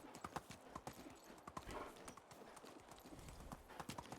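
Horse hooves clip-clop in a steady, quick rhythm as a mount is ridden in the medieval life-sim game Medieval Dynasty, with brief faint voice sounds mixed in.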